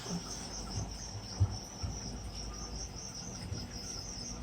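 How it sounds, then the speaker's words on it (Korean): Crickets chirp in a steady, continuous trill throughout, high and even, with faint soft rustles and a light knock at the end, as an antlion drags them into sand. "넣어놓은 귀뚜라미들은 저기서 저렇게 먹히고 있고요"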